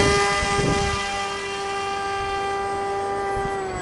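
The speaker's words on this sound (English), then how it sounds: "No drama on that takeoff." An RC F-35 model jet taking off, its electric ducted fan giving a steady, loud whine with sustained tonal harmonics, holding strong and nearly even for several seconds.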